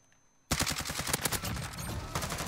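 Rapid automatic gunfire from the CR-56 AMAX assault rifle in Modern Warfare, a sudden burst after a brief near-silence, then loud, closely spaced shots rattling continuously in a fast rhythm.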